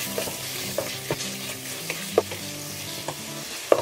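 A spoon stirs a tablespoon of garam masala into softened tomato masala in a pan, with a low sizzle and repeated light scrapes and clinks against the pan, and no talking.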